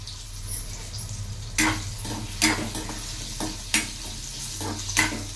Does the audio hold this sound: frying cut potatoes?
yes